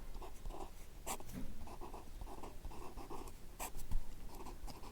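A pen scratches across paper during a maths lesson, a faint, close series of short strokes in quick, uneven bursts against a quiet room.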